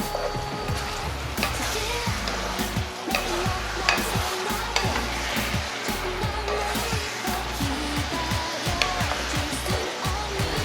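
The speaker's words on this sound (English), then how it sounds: "Flip the shrimp over here and there so they will evenly cook." Shrimp with garlic fry in a pan, giving a steady loud sizzle under repeated rhythmic scrapes and clacks as the shrimp are stirred and flipped, heard close for about ten seconds with no speech.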